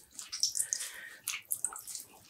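Water squeezed by hand out of freshly dyed yarn, dripping and splashing in short bursts, close and fairly faint.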